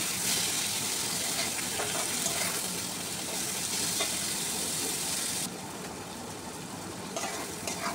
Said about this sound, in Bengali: এখন চামড়াটা ঢেলে দেব, দিয়ে চামড়াটা দিয়ে নাড়াচাড়া করে আবারও কিছুক্ষণ ভেজে নেব।